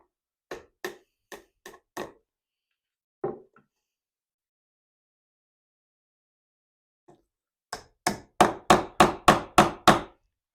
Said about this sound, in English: So I'm just going to nail on a little bit of a fence here.